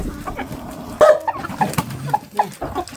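A rooster meant for slaughter clucks in a farmyard during a Romanian winter, giving several short, close clucks and squawks at an uneven pace while other birds sound faintly in the background.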